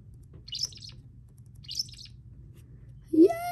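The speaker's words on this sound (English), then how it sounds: "Yes, I'm a baby parakeet. Oh, that's a pretty cute call." Two short, bright chirps from a baby parakeet in the video game Feather Family, evenly spaced and alone over a low hum, followed by a louder, deeper rising call at the end.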